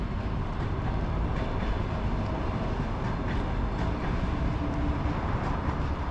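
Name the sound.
express train departing Podsolnechnaya railway station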